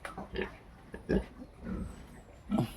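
A sow in a farrowing pen gives four or five short, deep grunts at irregular intervals, close and moderately loud, with quiet pen ambience between them.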